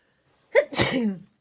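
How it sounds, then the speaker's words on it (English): A single sneeze, close and clear: a sharp intake followed by a forceful burst, alone in a quiet room. "Oh, I'm gonna sneeze."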